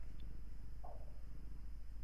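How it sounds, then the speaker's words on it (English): A house cat purrs close and steady, a soft low rhythmic rumble pulsing evenly throughout, with a faint brief squeak in the middle. "That wasn't my tummy, that was the cat"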